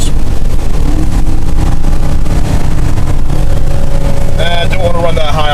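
A car engine held at high revs while climbing uphill at about 35 mph on a road trip, giving a loud, steady, strained drone throughout with a voice talking over it.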